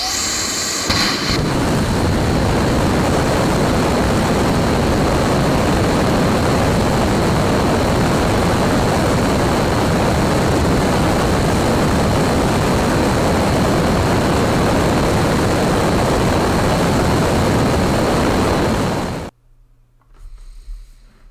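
Loud, sustained roar of a SpaceX rocket engine on a development test stand, a dense unbroken rumble holding steady for about nineteen seconds before cutting off abruptly into near silence.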